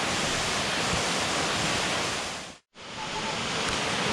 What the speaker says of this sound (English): there's the main waterfall, La Cascada Juan Curie.